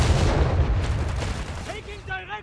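Mortar fire in the Company of Heroes 3 game: heavy low rumbling booms roll on continuously, loud and dense, fading slightly toward the end as higher tonal sounds come in.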